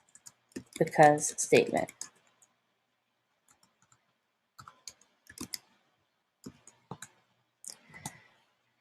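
Keyboard typing while writing in a Google Doc: short clusters of quick key clicks spaced across the clip, near and fairly soft, after a stretch of talking at the start.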